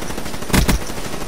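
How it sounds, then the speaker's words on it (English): Gunfire in Call of Duty Black Ops 3 on the Fringe map, two quick loud bursts of shots close together against a steady game background, no talking. "Shooting at everything. Bullets finna hit today."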